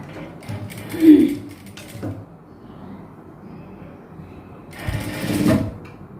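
A small sewing machine stitches a silk blouse for a traditional silk skirt-and-blouse outfit, running in two short bursts of rapid mechanical whirring separated by a quieter pause.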